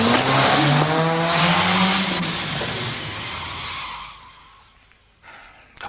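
A car speeds past in a German crime radio play, its engine whining with a falling pitch and tires squealing as it sweeps by loudly and fades into the distance, followed by faint shuffling.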